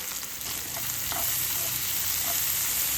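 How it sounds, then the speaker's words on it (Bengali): Chopped ginger, onion, capsicum and green chili sauté in a hot pan, a loud continuous sizzle of frying with a few soft stirring scrapes, close by and without any talking. "আদা কুচি, পেঁয়াজ কুচি, ক্যাপসিকাম কুচি, কাঁচা লঙ্কা কুচি অল্প একটুখানি সটে করে নেব, বেশি ভাজবো না।"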